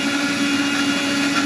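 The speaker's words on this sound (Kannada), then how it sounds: "ಸಣ್ಣಗಾಗೋವರೆಗೂ ರುಬ್ಕೊಳ್ತೇನೆ. ಎಲ್ಲ ಮಸಾಲವನ್ನು ಮಿಕ್ಸಿಯಲ್ಲಿ ಸಣ್ಣಗೆ," A kitchen mixer grinder runs steadily, grinding fish curry masala to a fine paste; a loud, continuous motor whine with a strong steady hum throughout, no voices.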